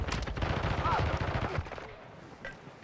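Gunfire in the Modern Warfare II video game, a dense burst of rapid shots crackling loudly for the first second and a half, then fading to quieter scattered noise, with a radio-style voice faintly present.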